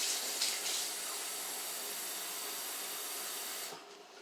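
About half a cup of water pours steadily into a cooking pot of soup with a close, hissing splash for about four seconds, then stops abruptly.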